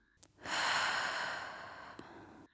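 A single slow, deep breath during a yoga back exercise, heard close and soft. The long airy rush swells and then gradually fades in a quiet room with no talking.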